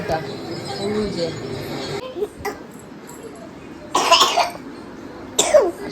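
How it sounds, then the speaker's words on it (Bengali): A child coughs in short bursts indoors, with two louder, sharper coughs standing out near the end over a quiet room background. "কাশিটা কমছে"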